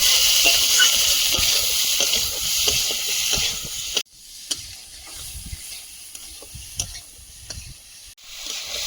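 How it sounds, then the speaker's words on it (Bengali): Chili, cumin and coriander powders sizzle and hiss in a pan as they are stirred while sautéing for a fish curry. The sound is strong at first, then drops sharply, with scattered scraping taps from the stirring. "লঙ্কা গুঁড়ো জিরে গুঁড়ো ধনে গুঁড়ো ভালোভাবে সব মশলা কষিয়ে নেব"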